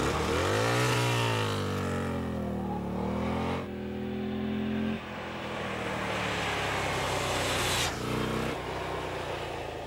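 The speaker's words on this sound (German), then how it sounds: "Das Herz der City Cross ist ein luftgekühlter 45 Grad V-Twin mit 984 Kubik und 80 PS bei 7500 Touren" A Buell XB9SX with its air-cooled 984 cc 45-degree V-twin runs loud and close, revving up and easing off in long swells and shifting pitch, with no talk.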